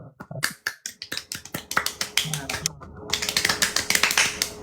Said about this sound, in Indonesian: Kasih respect dulu, tepuk tangan dulu, tepuk tangan.